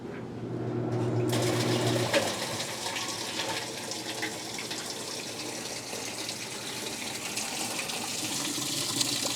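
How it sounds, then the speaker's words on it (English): Water runs and gushes steadily through a washing machine on its second rinse, a brief mechanical hum and faint rattles at the start giving way to continuous close splashing with no talk. "We're doing a second rinse."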